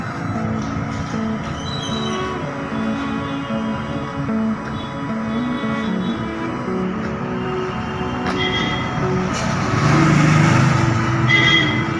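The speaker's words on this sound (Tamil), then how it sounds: "ட்ரெயின் போகிறது தெரியுதா?" A train rumbles past nearby in East Tambaram, Chennai, a sustained heavy roar with metallic squeals and clatter that grows louder toward the end.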